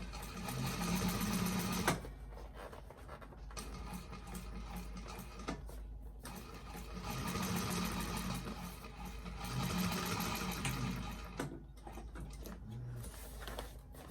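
A sewing machine top stitching a bag runs in a steady, close mechanical whir, with short pauses near two, six and eleven seconds before the stitching resumes.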